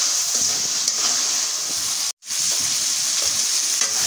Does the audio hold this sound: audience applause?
no